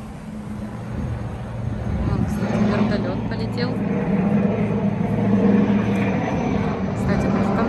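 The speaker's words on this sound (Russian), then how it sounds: "в Констанце постоянно летают вертолеты, какие-то самолеты" An airplane flies overhead in Constanța, a loud steady engine roar that swells and holds over several seconds, with other outdoor noise underneath.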